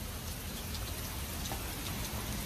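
Hurricane rain pours down in a dense, steady hiss with no pauses, close and fairly loud, with scattered drops spattering on nearby surfaces.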